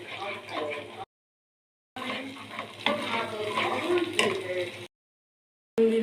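Spine gourd, coconut and poppy seed paste with green chilli stir-fried in a pan, a soft sizzle and stirring scrape broken by two silent gaps, with a voice talking over much of it.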